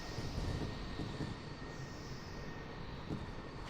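Bomber aircraft in a strategy video game, a steady droning engine roar with a faint high whine, moderately quiet and unbroken throughout, no talking.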